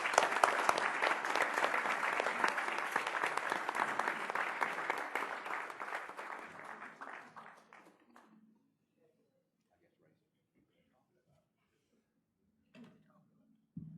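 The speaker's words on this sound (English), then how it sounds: "we all need to stand and give him a clap" An audience at a college board of trustees meeting applauds steadily for about eight seconds, then the clapping fades out, leaving near silence broken by a couple of faint thumps.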